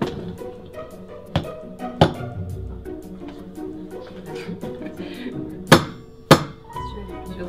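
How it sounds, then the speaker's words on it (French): Small hammer tapping a series of Comté cheese wheels during a cheese tasting class, several sharp distinct knocks ringing out at irregular intervals over a busy room with background voices. "Comme un petit marteau, et tu vas, on dit sonner les fromages."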